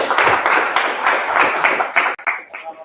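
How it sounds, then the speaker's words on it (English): Conference session audience applauding a presenter, a burst of clapping from a group that stays strong for about two seconds, then breaks into a few scattered final claps. "So let's give him another round of applause."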